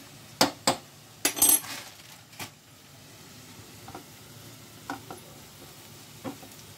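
Chicken coated with gram flour, cardamom and spices stirred in hot oil for chicken bhuna, a few sharp scraping clinks early on, then quieter scattered stirs over a faint low sizzle.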